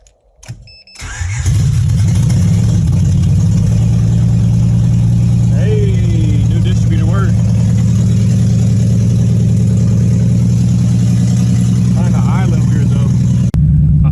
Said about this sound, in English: Now we're going to try to crank it up for the first time.